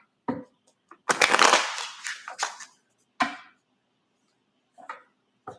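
Playing cards being shuffled close up, a few quick riffles and ruffling bursts separated by short silences, with brief soft taps between them.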